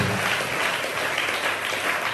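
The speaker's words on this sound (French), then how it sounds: "acclamez d'abord" A congregation at a Sunday church service claps in a brief, even burst of applause, a steady close patter lasting about two seconds.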